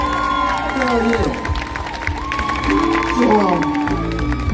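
A concert crowd at a show at the California State Fair in Sacramento claps and cheers steadily in the background while someone talks over it.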